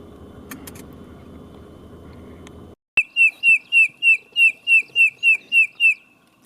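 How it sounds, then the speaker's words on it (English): A bird in Kruger National Park gives a rapid series of about ten loud, evenly spaced whistled chirps, close by, after a few seconds of low rumbling vehicle-like background. "Hello, bird."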